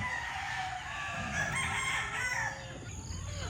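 A Boston Roundhead gamefowl rooster at a game farm crows in one long, strong call that rises and then trails off, with farm noise behind it and no one talking.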